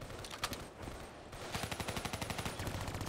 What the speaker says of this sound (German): Ach, das ist Geschütze.